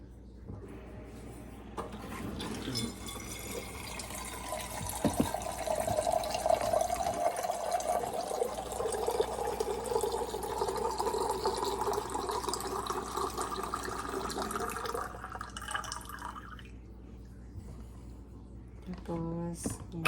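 Water pours steadily into a pot for brewing homemade rice coffee, a continuous rushing, filling stream lasting about ten seconds, close and moderately loud, then tapering off into quieter handling sounds.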